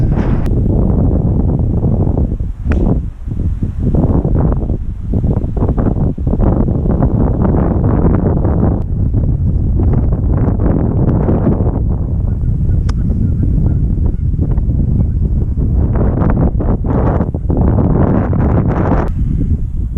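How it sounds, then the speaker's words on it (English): Strong gusty wind buffeting the microphone on a golf course, a loud continuous roar with rumbling gusts and brief dips, close and dominant, with no talk. "The wind was kind of blustering behind me."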